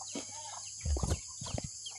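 Farm ducks call in a short cluster of loud, raspy squawks near the microphone, a few overlapping bursts over a steady high background hiss, with no talk.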